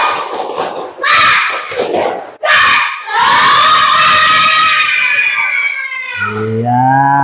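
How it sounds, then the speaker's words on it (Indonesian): A classroom of Indonesian pupils shouts the tepuk semangat clapping chant together, loud and close, in rhythmic bursts with brief pauses, ending in a sustained group vocal cry. "Yuk, tepuk semangat."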